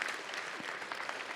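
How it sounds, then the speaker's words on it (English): Faint applause from an audience at a debate championship awards event, steady scattered clapping throughout the short stretch without any voices. "So give all of the Kappa Leaguers another round of applause."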